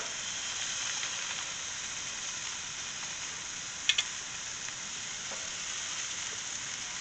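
Steady, close sizzling and crackling of parboiled potatoes and steak on a hot grill, continuous throughout, with a couple of sharp pops near the middle.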